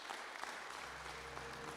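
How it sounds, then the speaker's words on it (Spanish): A church congregation applauds for Christ at a service led by a pastor, a continuous, fairly faint patter of clapping from a roomful of people. "Dele un fuerte aplauso a Cristo"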